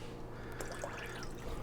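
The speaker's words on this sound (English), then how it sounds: "add an additional 2 cups of water, and that should bring me up" Water poured into a soup pot of split green pea soup with corned beef, a steady continuous trickle and splash heard up close for under two seconds, moderately quiet.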